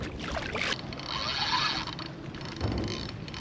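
A kayak paddled through the Florida Everglades near Ten Thousand Islands, with close splashes and drips of water from paddle strokes and faint mechanical clicks and creaks from the boat.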